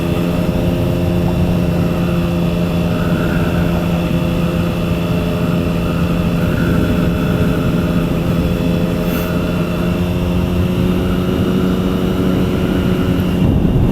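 A Triumph Speed Triple motorcycle engine drones steadily and loud throughout while riding slowly through a small town, a constant low hum with a faint rising whine riding over it.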